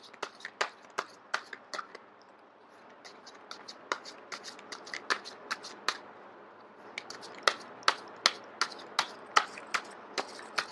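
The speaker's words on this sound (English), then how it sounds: "I am going to shuffle until the first card drops out." Crisp, rapid snaps of tarot cards being shuffled repeat in quick bursts, close by, with a short quiet pause before the shuffling resumes.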